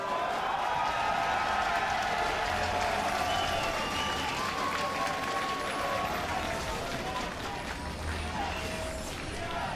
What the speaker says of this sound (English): as you can hear the crowd chanting